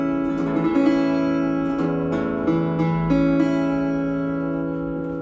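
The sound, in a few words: guitar with capo in alternate tuning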